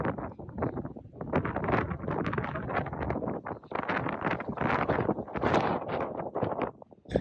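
Gusty wind buffets the microphone outdoors among the rock formations of Arches National Park, a loud, continuous rumbling roar with rising and falling gusts throughout.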